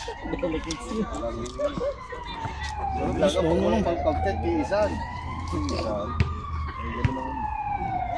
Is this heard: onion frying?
no